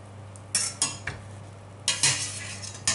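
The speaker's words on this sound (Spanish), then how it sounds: "Sacamos las patatas y las ponemos en una escurridera." Potatoes being lifted out of a pot and dropped into a colander for draining, a handful of clattering, splashy knocks in two bursts, fairly close and moderately loud with a low hum underneath.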